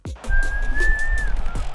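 A person whistles a single sustained, steady tone for about a second over a low background hum, with a short fading note afterward.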